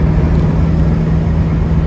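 A 1957 Buick cruising on the road in 32-degree weather, its engine and road noise a steady, loud, even drone with a low hum throughout and no talking.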